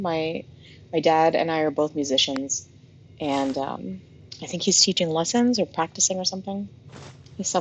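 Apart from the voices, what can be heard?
No everyday noise stands out behind the speech.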